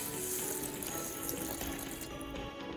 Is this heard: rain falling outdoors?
no